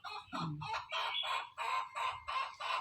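A rooster crows repeatedly in a rural village yard, a series of loud, close, harsh bursts following one another in quick rhythm with no voices over it.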